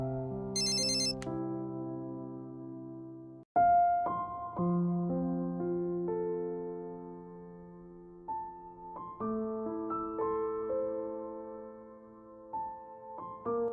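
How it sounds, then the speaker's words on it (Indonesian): A mobile phone ringtone going off in a hotel room, a clear electronic melody of sustained tones that pauses briefly and then resumes, playing on for over ten seconds with no voices over it. "Di hotel, tiba-tiba HP-nya berdering"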